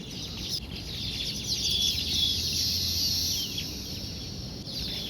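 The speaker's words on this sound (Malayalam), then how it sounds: "ആ കിളികളുടെ ശബ്ദം ഒന്ന് കേട്ട് നോക്കൂ" A chorus of many birds chirping and calling together at a moderate distance, a continuous high twittering that swells and then eases.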